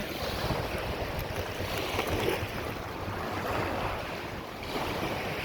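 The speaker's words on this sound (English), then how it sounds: "the waves are pretty light because the wind is coming from the it's coming from the west" Light ocean waves break on a Sanibel Island, Florida beach under a westerly wind, a soft continuous wash with gentle swells and some wind rumble, no voices.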